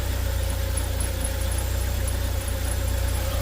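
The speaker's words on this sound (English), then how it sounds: "I'm noticing the rough idle that the customer is experiencing. Yeah, it's, oh, okay. Yeah, it's like it's skipping" A 2017 Joylong van running on gasoline idles roughly and skips, a close, steady low engine drone with faint uneven pulsing and no voices.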